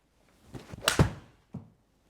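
A single soft, dull thunk of a 3D-printed golf iron hitting a ball, muted and close, followed by a faint lighter knock.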